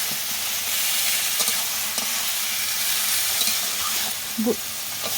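Water lily stems sizzle and hiss steadily in a pan with turmeric and salt, with occasional scraping knocks as they are stirred, close and fairly loud with no talking.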